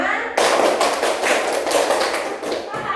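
A roomful of people clap in unison during a counted rhythm exercise in a classroom, a steady run of loud, closely packed claps with a faint voice underneath.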